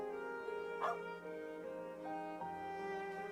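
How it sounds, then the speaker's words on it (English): Dog barking in the video game Trails of Cold Steel IV, a few faint short yips and whimpering barks over a steady tonal music bed. "And dog was cute though."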